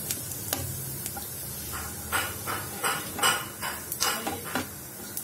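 A metal spoon stirs cumin seeds in hot oil in a pan, sounding as a faint steady sizzle with several sharp scraping clinks against the pan.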